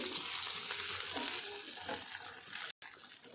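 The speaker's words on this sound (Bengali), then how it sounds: "ভালো করে আমি ভেজে নেব গ্যাসের ফ্লেমটা লো রেখে কিন্তু এটা সুন্দর করে ভেজে নিতে হবে" Flattened-rice mini idli fry in a pan over a low gas flame, giving a steady, close sizzle with faint stirring. A brief gap of silence breaks it near the end.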